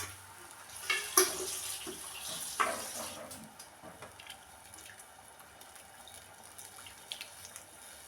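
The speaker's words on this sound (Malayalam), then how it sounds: "കുറച്ച് വെള്ളം കൂടെ വീത്താം" Water poured into a simmering sardine curry with tamarind, two short splashy bursts near the start, then a faint, fading trickle over a quiet kitchen background.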